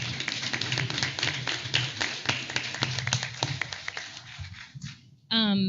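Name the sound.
audience applause at a school board meeting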